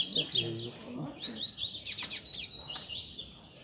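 Coleiro seedeater birds sing in quick, bright chirps and warbling trills, close and lively, with a brief low voice near the start.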